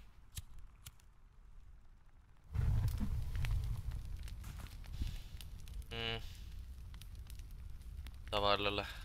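A campfire burns in the video game The Forest, a steady crackling hiss that flares up suddenly and continues at moderate loudness, with brief vocal sounds over it.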